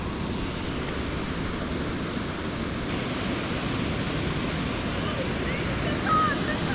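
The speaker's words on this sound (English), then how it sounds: "We weren't catching fish at the lake, so we decided to make a change and come over here to this waterfall." Steady, loud rushing water from a creek waterfall fills the scene as a constant broadband roar, with a faint bird chirp near the end.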